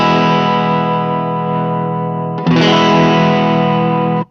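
An electric guitar played through a distortion effect pedal set to low gain rings out in sustained, nearly clean chords, loud and close, with a fresh strum partway through before cutting off.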